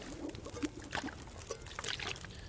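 Water poured out in a survival video game, a faint trickling and splashing that comes in small bursts over a quiet background with a few soft clicks.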